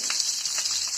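Green chilies and onion sizzle in hot oil in a kadai, a bright, steady crackle close by with a few soft stirring scrapes in one short burst.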